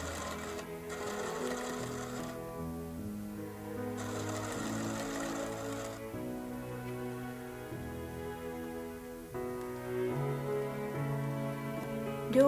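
A sewing machine stitches a 1 cm bias strip cut from Omi jofu linen for a kimono-remake pintuck dress, running in steady rhythmic bursts with brief pauses between runs, loud and close throughout.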